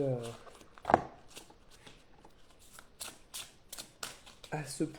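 Tarot cards shuffled and drawn from a deck, a run of close papery riffles and flicks with short snaps, while someone talks over parts of it.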